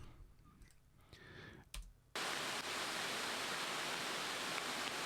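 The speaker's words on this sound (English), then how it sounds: "with this waterfall that the volume is quite high" A waterfall roars as a loud, steady broadband rush that starts abruptly about two seconds in, after a quieter stretch of faint clicks and small sounds.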